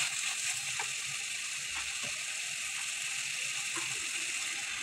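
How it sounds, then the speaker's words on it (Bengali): Potatoes and shrimp sizzling and frying in a pan, a steady hiss of oil with occasional soft stirring scrapes, close and continuous with no talk. "এখন আমি আলুটা দিয়ে দিয়েছি। আলু দিয়ে কিছুক্ষণ কষিয়ে নেব।"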